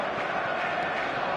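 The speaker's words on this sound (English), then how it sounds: "the crowd are reacting to that now" Stadium crowd noise in the football game eFootball 2026, a steady, dense roar of many voices, loud and continuous throughout with no single voice standing out.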